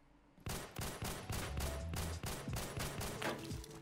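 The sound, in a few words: pistol shots at snipers in video game Phantom Forces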